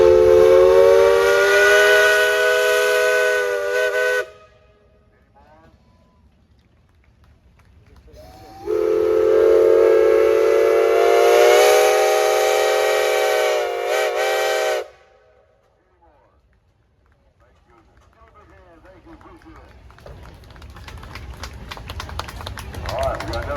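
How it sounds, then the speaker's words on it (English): A steam traction engine's loud whistle blows a long, steady blast, pauses, then sounds again for several seconds, followed by a quiet hiss and engine noise building, at a threshing show tractor parade. "Dale, you got a whistle."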